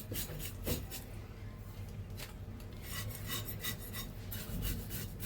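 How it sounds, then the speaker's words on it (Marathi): Scales are scraped off a fresh, firm fish, giving repeated quick rasping strokes at close range, fairly faint, in bursts that continue steadily through. "अशी खवलं काढायची बारीक बारीक ह्याला पण खवलं असतात ती बघा"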